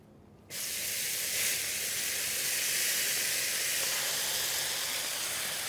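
Potatoes sizzling on an oiled outdoor griddle for breakfast hash browns: after a brief quiet start, a loud, steady sizzle rises and holds without a break.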